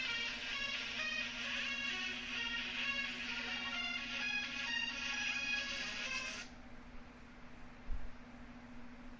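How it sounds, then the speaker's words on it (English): A mobile phone rings indoors at night with a steady repeating electronic tone over a constant background hum, then abruptly cuts off, leaving quiet room noise and a single low thump. "If y'all wonder what that noise is, it's my phone for some unknown reason."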